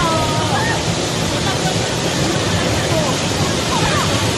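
A waterfall where people have come to picnic: a loud, continuous rushing roar of falling water with a faint murmur of voices mixed in.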